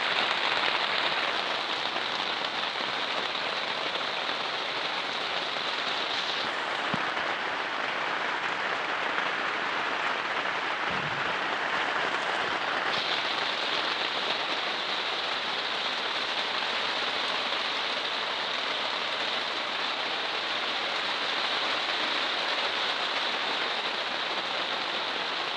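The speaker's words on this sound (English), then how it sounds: "you might like to have a bit of a relaxation to the sound of rain on the polytunnel." Heavy rain drums steadily on a polytunnel roof during a thunderstorm in Essex, a dense, even hiss that continues unbroken throughout, with no voices.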